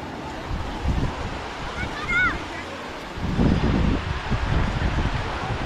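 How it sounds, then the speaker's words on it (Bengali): Sea waves roll onto Mandarmani beach in a steady broadband roar that swells midway, with wind buffeting the microphone and a brief faint chirp. "কি ভালো লাগছে এই সমুদ্রের আওয়াজটা।"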